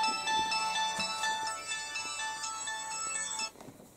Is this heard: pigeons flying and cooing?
no